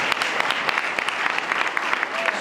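A church congregation applauds during a convention service, steady dense clapping from a large crowd throughout, with faint voices mixed in.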